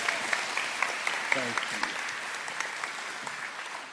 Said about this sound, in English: Let's give a round of applause for the person that you come to listen to learn and grow